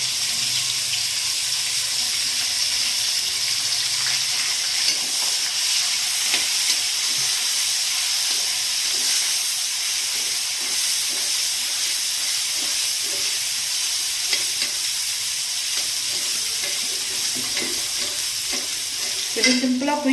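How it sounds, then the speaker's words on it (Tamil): Onions fry in hot oil with fennel seeds for a milk kurma, giving a constant loud sizzle with faint stirring knocks, then a brief clatter near the end. "வெங்காயம் நல்லா வதங்கட்டும்."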